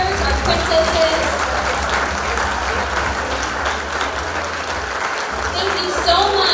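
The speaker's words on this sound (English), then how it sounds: "give another round of applause for our helpers, our princesses" Audience applause fills a pageant hall, a steady dense clapping that runs the whole stretch, loud and close, with faint voices mixed into the crowd noise.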